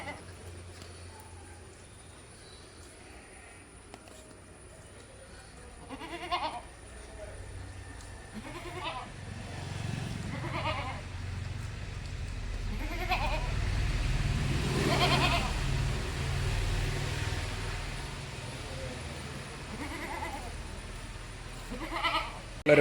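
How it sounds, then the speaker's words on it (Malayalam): A brown Beetal goat, a first-time mother, and her week-old male kid bleat on a Kerala goat farm, with short, repeated calls scattered over about twenty seconds while people talk nearby and a vehicle rumbles in the background. "ഫസ്റ്റ് പ്രസവം കഴിഞ്ഞ ഒരാടും ഒരു ബ്രൗൺ ബീറ്റൽ പെട്ടൊരു മുട്ടൻകുട്ടി, ഒരാഴ്ച പ്രായമായിട്ടുള്ള കുട്ടിക്കിടാം."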